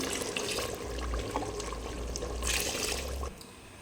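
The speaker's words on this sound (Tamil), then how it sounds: "ஓகே, வாட்டர் ஆட் பண்ணுறோம்." Water poured into a pot of rice for biryani in a home kitchen, a steady splashing rush that runs for about three seconds before cutting off.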